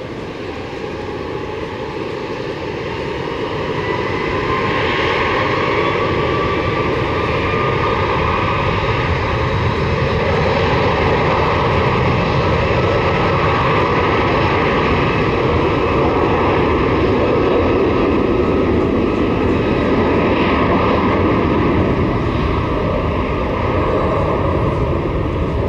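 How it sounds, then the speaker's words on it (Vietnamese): Vietjet Air Airbus A330-300 jet departing runway 25L at Tan Son Nhat airport, a loud continuous engine roar building over the first seconds and holding steady with a whining tone, heard from nearby. "Và bây giờ chúng ta có một chiếc Airbus A330-300 của hãng không Vietjet Air đang trên đường băng 25 trái"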